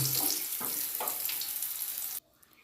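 Dried red chilli, radhuni seeds and bay leaf hit hot oil, giving a bright, crackling sizzle with a few sharp pops, close and fairly loud, which cuts off abruptly after about two seconds to near quiet.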